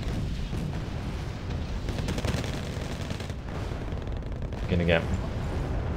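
Bombs and gunfire from the strategy video game Wargame: Red Dragon, a dense battle din of rapid shots and booms with a louder blast near the end, while someone talks over it.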